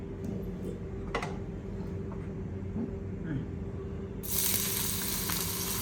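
Chopped onions going into hot oil in a pan set a steady low sizzle, and a louder, brighter burst of frying flares near the end as they hit the oil, with soft kitchen clicks in the background.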